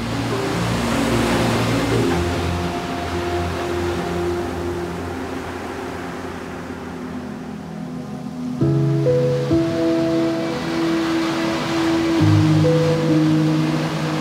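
Heavy ocean surf rolling and surging continuously, with a low engine drone running underneath throughout.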